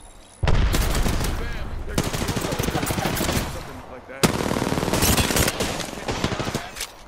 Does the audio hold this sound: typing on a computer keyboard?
no